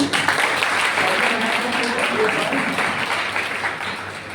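Audience applause in an indoor hall for a student selected for NEET 2024 at a coaching-class felicitation in Prayagraj: steady, dense clapping from a crowd, close and fairly loud throughout, mixed with faint voices.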